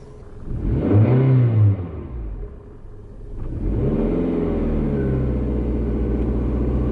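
A manual-transmission car engine revs up loudly as the clutch is eased out, dips, then holds a steady, strained drone while a learner driver pulls away from a stop.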